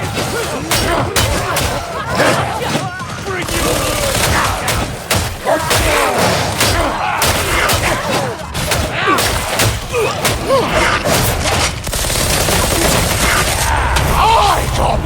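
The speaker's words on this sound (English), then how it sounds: "Gunfight between two killer gangs, and I got caught in between." Gunfire from a gang gunfight in Warhammer 40,000: Darktide, with rapid bursts and volleys of shots, thuds and impacts crackling continuously up close, and voices shouting at times.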